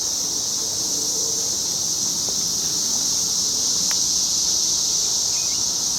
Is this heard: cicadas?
yes